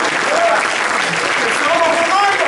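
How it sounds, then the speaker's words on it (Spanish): Brief burst of steady applause from a church congregation during a sermon, dense clapping filling the room with some voices mixed in. "Un aplauso."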